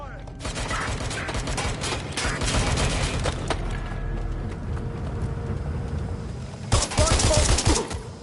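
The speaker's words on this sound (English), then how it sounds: "Shots fired." Gunfire in the video game Watch Dogs Legion: bursts of shots roll through a dense, busy mix for most of the stretch, with a sharp flurry of loud cracks near the end.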